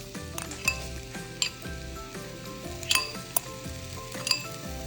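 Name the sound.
chili flakes, ginger, garlic and onions frying in pan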